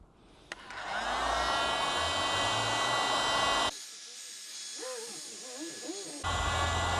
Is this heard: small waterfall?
no